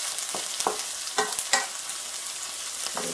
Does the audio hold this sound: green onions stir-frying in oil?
yes